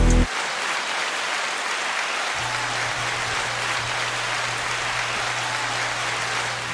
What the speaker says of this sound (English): I gotta keep the hand clap going for that song, man.